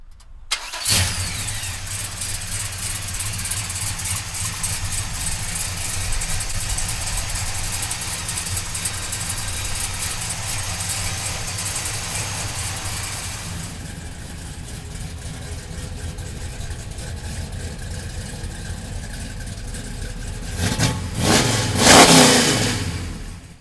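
A 1970 Chevrolet Chevelle V8 cranks and catches, then settles into a loud, steady idle for a long stretch before a few sharp revs near the end, with no talking.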